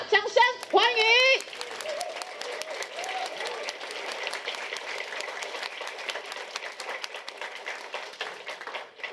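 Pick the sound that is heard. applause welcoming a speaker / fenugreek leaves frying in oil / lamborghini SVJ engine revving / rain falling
applause welcoming a speaker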